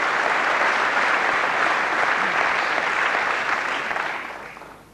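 Sustained applause from a large audience greeting US President Bill Clinton at the Bombay Stock Exchange, steady dense clapping for about four seconds before fading out.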